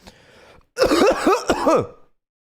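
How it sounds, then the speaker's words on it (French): A man clears his throat and coughs close to the microphone, a faint rasp followed by two loud, gravelly bursts that end in silence. "Ça te fait pas réagir comment je tousse là?"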